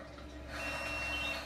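A thin, steady electronic beep tone sounds faintly over a low hum, lasting under a second.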